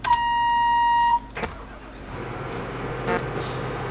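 A vehicle in Farming Simulator 17 gives one steady electronic beep lasting about a second, clear and prominent, followed by a low engine hum and a couple of soft clunks.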